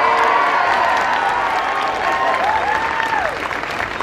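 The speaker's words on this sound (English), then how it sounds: "please, a big round of applause for all the contestants in this category" Convention audience clapping for costume contest entrants, a dense sustained round of applause with some cheering, loud and close, with faint voices and a whistle-like tone rising above it.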